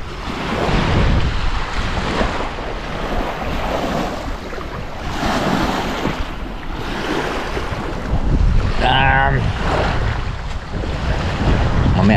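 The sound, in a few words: waves hitting a boat with wind at sea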